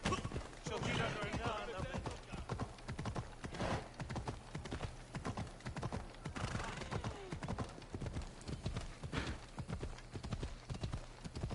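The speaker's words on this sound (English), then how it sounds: "The horse would get up to a full gallop already." A horse gallops in Assassin's Creed Odyssey, a fast steady run of hoofbeats with an occasional whinny, continuous and fairly close throughout.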